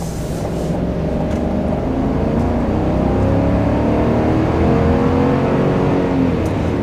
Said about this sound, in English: that was pedal to the floor acceleration